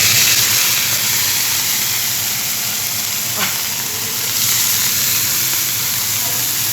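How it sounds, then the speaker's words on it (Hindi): Asafoetida and chili tempering in hot oil on a home kitchen stove, a steady broad sizzle and hiss that holds for several seconds, swelling slightly near the end, with no voices over it. "तो यहाँ डाल देती हूँ मैं थोड़ी सी हींग"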